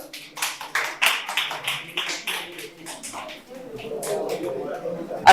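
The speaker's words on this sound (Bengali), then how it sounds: "জোরে হাততালি হয়ে যাক।" A crowd claps at a quiz prize-giving at Santiniketan Medical College and Hospital. The rapid, fairly close applause fills the first few seconds, then thins into scattered taps and murmuring voices.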